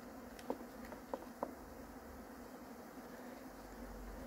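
Honeybees buzzing around a beehive during robbing, a faint steady drone with a few brief louder passes close by, no voices.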